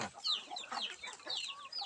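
Several Palawan native chickens cluck softly and irregularly nearby, a few brief calls overlapping against a quiet background.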